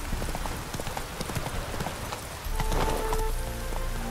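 A horse's hooves in The Witcher 3 clip-clop in a quick, even rhythm close by, with a brief tonal cue near the end and no talking.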